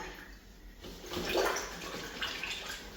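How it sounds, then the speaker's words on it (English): Water rushes and splashes as an Erbauer airless paint sprayer is rinsed out, a steady broadband wash that swells in the middle and stays fairly close and moderately loud throughout. "Give it a good rinse out again if you need to."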